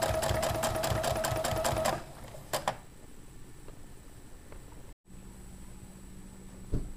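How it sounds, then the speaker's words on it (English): Sewing machine top stitching around pant pieces, a fast close mechanical whirr that runs for about two seconds, stops, then gives a few brief stitches amid quiet handling noises. "And I just carefully sew all the way around."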